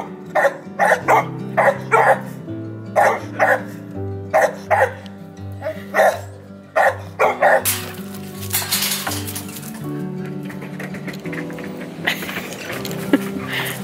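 Puppies waiting to be fed bark in repeated close, sharp bursts, several dogs yapping in rhythm over a low drone, followed by a clatter of dishes and bowls in the second half.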